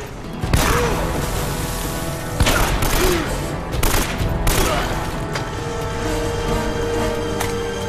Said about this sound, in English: Gotta have that burst fire